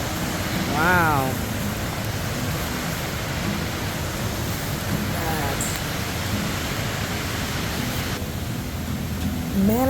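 Rushing water of Big Manitou Falls, Wisconsin's highest waterfall, makes a steady, dense roar that stays loud throughout, with a voice speaking briefly over it.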